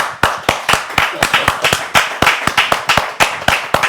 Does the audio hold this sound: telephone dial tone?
no